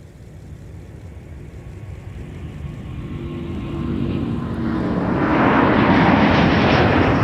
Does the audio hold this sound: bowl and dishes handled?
no